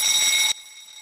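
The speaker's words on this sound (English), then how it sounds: "alert the other people by activating the closest alarm" A fire alarm sounds loud and close in a merchant navy fire-fighting setting, a shrill electronic tone ringing for about half a second before cutting off abruptly.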